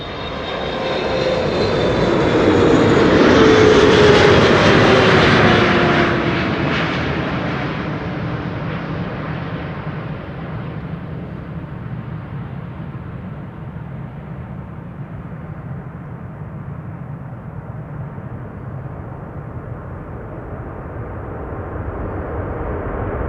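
A Saudi airliner on approach to runway 06 at Amsterdam Schiphol passes close and loud, its engine roar and whine swelling to a peak then fading into a long, receding rumble.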